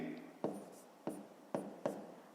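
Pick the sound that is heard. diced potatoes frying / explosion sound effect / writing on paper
writing on paper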